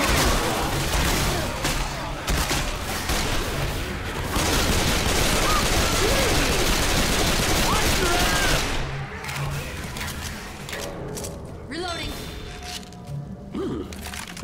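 Dense, sustained gunfire and cracking shots from Left 4 Dead 2 zombie combat, loud and continuous for most of the clip before thinning into scattered bursts, with brief voices mixed in.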